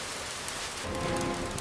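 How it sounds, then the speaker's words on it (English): Steady heavy rain pours onto surfaces as a dense, constant hiss that swells slightly louder in the second half, with no voices. "The rain is so loud."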